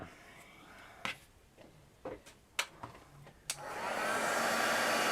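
A few scattered clicks and taps come before a hair dryer switches on and runs with a steady rushing blow, drying crackle medium and acrylic paint on a craft tag. Nobody speaks.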